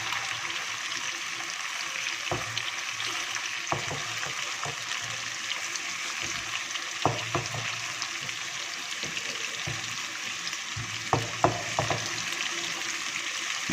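Ginger garlic paste frying with chicken in a karahi over a low-to-medium flame, giving a steady broadband sizzle with scattered sharp crackles and stirring knocks throughout, no talking.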